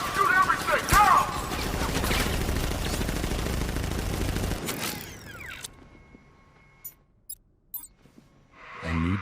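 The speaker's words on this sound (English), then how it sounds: "Open fire! Shoot everything! Now!" Gunfire ambush in the Batman: Arkham Knight video game: loud dense bursts of rapid shooting and mechanical clatter fill the first half, then cut to a quieter stretch with a few sharp isolated cracks before noise swells again at the end.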